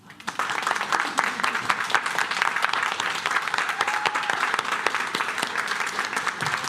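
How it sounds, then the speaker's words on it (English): Warm audience applause at a spoken-word storytelling event swells in quickly and holds as a dense, steady wash of clapping from a sizable crowd. "that's why this round of applause from us is for you."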